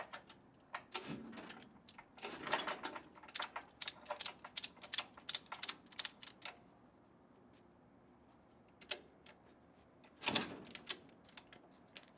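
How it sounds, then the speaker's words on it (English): Safety straps being ratcheted and fastened to secure a brine tank in a vehicle, quick rhythmic mechanical clicks in bursts with quiet gaps and a final pair of clacks, fairly close and moderately soft. "we're going to connect the safety straps that hold the tank in the vehicle"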